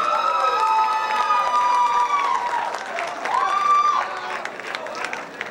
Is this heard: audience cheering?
yes